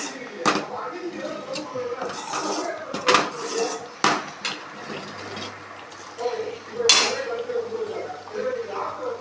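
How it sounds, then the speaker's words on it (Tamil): A spoon scrapes and clanks against a metal pot stirring egg gravy curry in several sharp knocks and stirring scrapes, close by, with a low hum underneath. "நல்லா கிண்டணும்."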